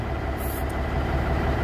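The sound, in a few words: Cummins N14 Celect Plus truck engine idling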